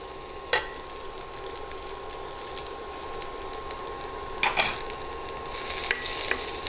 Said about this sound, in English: The beans is also very thinly sliced, so it doesn't take a lot of time to saute all this.